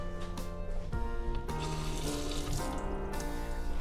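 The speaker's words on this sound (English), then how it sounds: "So I'm going to rinse my knife off real quick." Kitchen tap running steadily as a knife is rinsed under it, splashing and gurgling up close with shifting tones as the blade moves through the stream.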